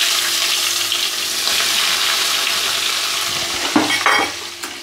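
Onions frying in a pan for chicken curry, a loud continuous sizzle close by, with a few clattering stirs near the end and no talking.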